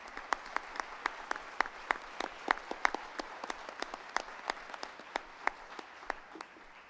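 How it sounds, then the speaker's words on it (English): Light applause at a school board of education meeting honoring a student: a small room of people clapping in thin, separate claps that stay fairly faint and fade toward the end, with no talk over them. "Let's give him a big round of applause."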